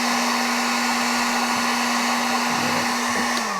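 A heat gun blows steadily on vinyl wrap over a BMW body panel, a constant loud airy whoosh with a fixed motor hum underneath, running alone without pause.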